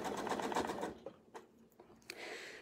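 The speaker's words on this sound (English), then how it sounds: "now I can just sew" A sewing machine stitches a quilt in a close, steady burst of rapid needle strokes that stops after about a second, followed by quieter scattered clicks and a brief resumed hum.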